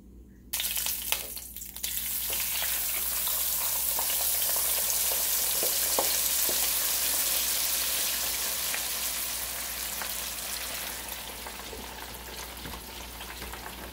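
Sweet potato frying in hot oil, a loud steady sizzle with scattered crackles and pops that settles slightly toward the end, heard alone.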